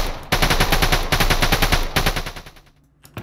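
A SCAR assault rifle in the Minecraft Flan's Mod video game fires loud, rapid automatic bursts with a short gap between them, then stops as the shots fade away.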